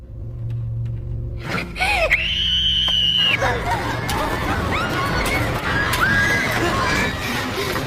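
A woman's piercing scream as she is stabbed in a scene from the Squid Game film: a sustained high shriek rising over loud crowd commotion and background score.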